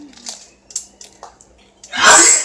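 One loud, breathy sneeze bursts out near the end, close by, after a stretch of quiet talk and small mouth noises at a seafood meal.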